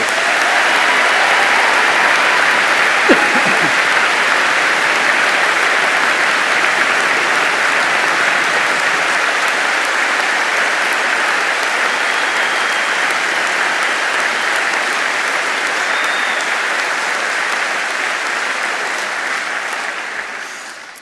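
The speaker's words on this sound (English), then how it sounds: "A big round of applause, please, for our order." A large audience at a veterinary and veterinary nursing graduation ceremony keeps up long, dense, sustained applause, loud and even for about twenty seconds before tapering slightly at the end.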